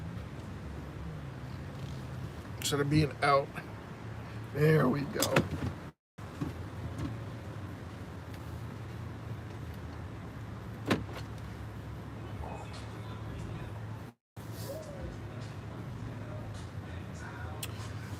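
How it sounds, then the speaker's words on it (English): A car idles and creeps forward to be re-parked at the roadside at night, a low steady engine hum running beneath close conversation inside the cabin, with brief drops in level. "Let me park the car a little bit better"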